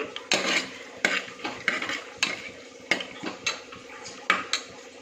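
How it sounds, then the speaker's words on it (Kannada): A spoon stirs tomato bath in a pan, scraping the metal in a dozen uneven strokes over a soft, low sizzle, close and clear with no talking. "ಇದು ಸ್ವಲ್ಪ ಫ್ರೈ ಆಗಲಿ"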